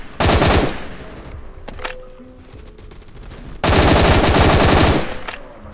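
Rapid automatic fire from an HA21E in a shooting video game, two loud sustained bursts, the first about one and a half seconds and the second nearly two, with quieter game noise between them.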